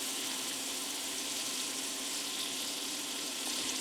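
Butter sizzling in a hot pan with olive oil, a steady bright hiss and crackle of frying holding evenly throughout without any talk.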